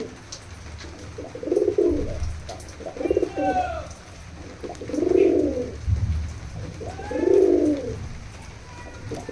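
Pigeons in a loft coo repeatedly in deep, rolling phrases, four distinct bursts spaced a few seconds apart, nearby and moderately loud over low background noise.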